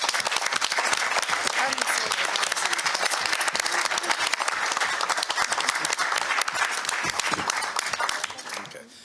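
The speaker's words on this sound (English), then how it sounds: "So please join me in a round of applause." Audience at a community board monthly meeting gives a sustained round of applause, dense steady clapping filling the room for about nine seconds before tapering off at the end.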